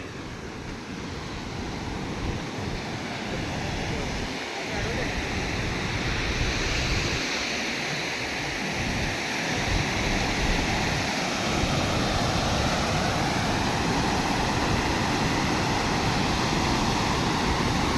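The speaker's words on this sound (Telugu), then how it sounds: "ఎత్తిపోతల వాటర్ ఫాల్స్ గుంటూరులో మాచర్ల" Powerful, constant roar of Ethipothala waterfall near Macherla in Guntur, a dense unbroken wash of falling water heard from close by, with occasional low wind buffets on the microphone.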